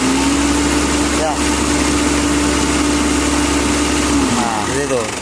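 A Mitsubishi L300 engine idles steadily and close by with a low, even hum that holds level before easing off near the end.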